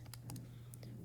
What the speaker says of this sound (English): you can type just that box in the calculator